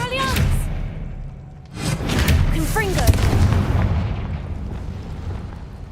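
Blasting spells detonate in combat in Hogwarts Legacy, heavy booming explosions with rumbling tails, one at the start and another burst near two seconds, loud and close, with shouted voices and whooshing magic effects around them.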